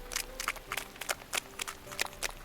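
Running footsteps from the visual novel game Fruit of Grisaia land in a quick, even rhythm of about a dozen crisp, close steps, heard alone.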